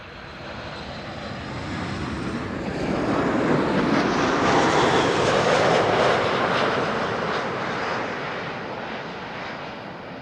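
A three-year-old WestJet airliner passing at Amsterdam Schiphol Airport, its jet engine roar swelling from a steady rumble to a loud broadband peak midway, then slowly easing off as it moves away.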